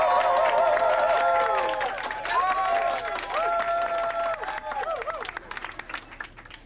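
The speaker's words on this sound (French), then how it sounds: "là, on passe au vote par applaudissement" An audience claps and cheers to vote by applause at a live improv show, a swell of clapping and whoops with crowd noise rising and falling over several seconds.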